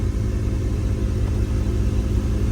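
A 1995 Dodge Ram 1500 V8 work truck with 226,000 miles runs steadily, giving a continuous low engine rumble from inside the cab at an even level with no talk.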